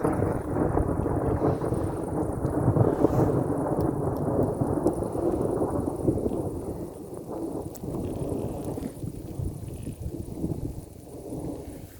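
Strong wind roars outdoors in light rain, a continuous heavy rumbling gusting against the microphone that eases slightly partway through, with no speech.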